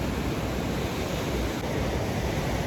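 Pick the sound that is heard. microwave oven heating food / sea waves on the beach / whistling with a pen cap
sea waves on the beach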